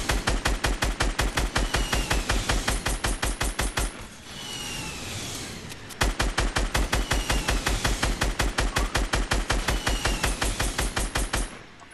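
Rapid automatic gunfire from a Fortnite match, loud and close, two long sustained bursts of evenly spaced shots separated by a brief quieter gap with faint background game sounds.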